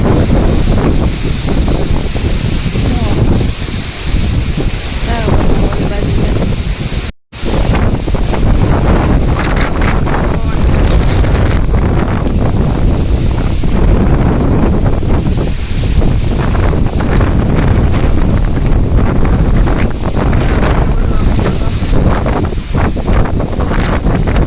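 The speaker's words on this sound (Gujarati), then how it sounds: "જોવો તો અને પવન ફૂલ છે હા" Strong, cold wind blows outdoors and buffets the microphone in a loud, continuous roar that rarely eases. There is one brief cutout partway through.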